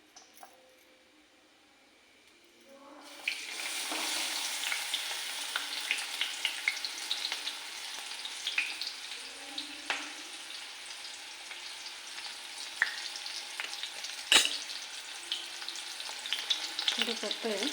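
Onion drops into hot oil with mustard seeds and cumin, and a loud, steady sizzle breaks out abruptly after a quiet start, with occasional stirring clinks over the frying.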